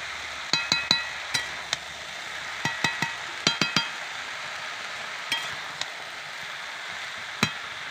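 Lentils being stirred in a pan with chopped green chillies, a spoon scraping and clinking against the metal in sharp, irregular taps over a soft background sizzle, close and fairly loud, with no talking.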